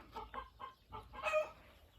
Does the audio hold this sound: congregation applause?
no